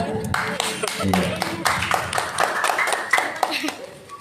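Scattered clapping from an audience for a youth contestant at a Quran recitation competition, irregular and moderately close, mixed with talking voices.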